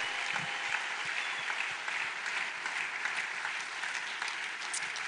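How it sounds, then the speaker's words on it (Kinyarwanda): A church congregation applauding together, a dense, steady wash of clapping that holds evenly at moderate loudness for several seconds without a break. "Reka twongere Imana amashyi menshi kubw'ijambo ry'Imana."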